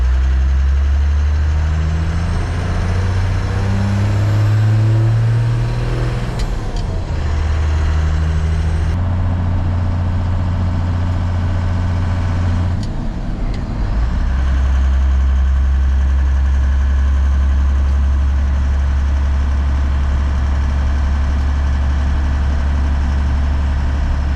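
A 1972 Ford F350 pickup with a Cummins diesel engine drives along, its steady low rumble rising and dropping through a couple of gear shifts, loud and close with no talking.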